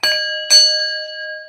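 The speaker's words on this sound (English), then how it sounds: "Let's ring the bell." A hand bell is rung twice during a witchy full-moon ritual, each bright metallic strike sustaining a long, clear ringing tone with steady overtones that decay slowly, close and loud with no talking.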